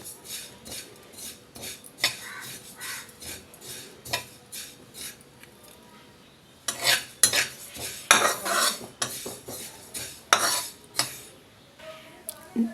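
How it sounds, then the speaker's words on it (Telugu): Sesame seeds dry-roasting in a pan for ragi-peanut laddus, a spoon scraping and tapping against the pan in a steady stirring rhythm that grows busier and louder partway through. "మనం తిప్పుకుంటూనే ఒక్క నిమిషం పేట వేయించుకుంటే చాలు"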